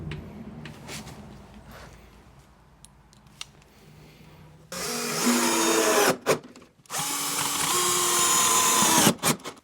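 A power drill driving 1 and 1 1/4 inch screws into plywood for a Murphy bed cabinet, loud whirring bursts near the mic after softer handling knocks and clicks, with brief pauses between drives.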